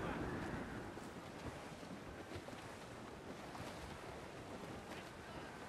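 Steady, loud rush of wind and open sea surrounds a sailing ship in Assassin's Creed IV Black Flag as the wind picks up, a constant broadband roar with no voices.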